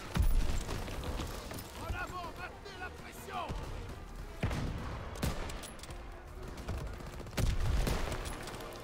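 Call of Duty WWII gunfire in a Rhine battle, a chaotic mix of bursts, single shots and distant explosions, with loud hits near the start and end, while someone speaks French over the action.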